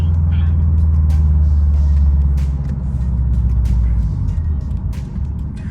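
A 2021 Subaru STI fitted with a Grimmspeed DRY-CON panel filter cruises along, its steady low engine drone and road rumble filling the cabin continuously, easing slightly in loudness partway through.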